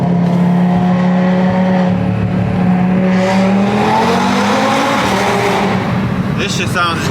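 A Honda EK hatchback pulls hard under a bridge, its engine droning and rising in pitch as it accelerates, loud and close, echoing off the overhead concrete, with a faint squeal near the end.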